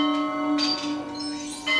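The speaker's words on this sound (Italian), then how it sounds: "Ah, una campana." A church bell rings in the LEGO Indiana Jones video game, a single sustained metallic tone with bright shimmering overtones that holds steadily for a couple of seconds, heard alone with no talk.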